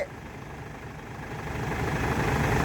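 A farm tractor engine runs steadily at close range, a low rumbling drone that builds slightly louder over a few seconds, with no voices over it.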